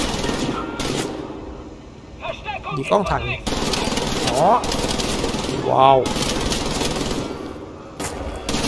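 A six-barrel gun in Wolfenstein The New Order firing in dense, rapid bursts with mechanical whirring, loud and close, while someone talks and exclaims between and over the shots.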